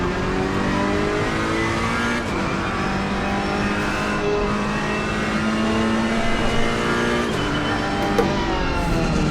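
Car engine in a racing video game driven with a Logitech G29 wheel, a loud continuous drone with rising and falling revs and shifting pitch, steady and close throughout with no talk over it.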